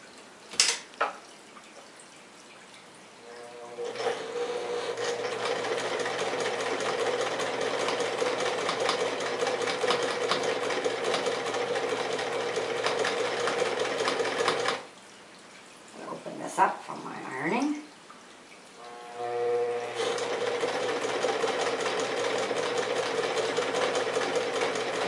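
A sewing machine runs close up, stitching fabric with a line for gathering, its steady motor hum and needle chatter lasting long stretches, pausing briefly midway with a few clicks before resuming.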